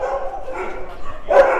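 Dogs at the Soi Dog shelter in Phuket, Thailand, bark and yip in short bursts, with one sharper, louder bark near the end, over a murmur of background voices.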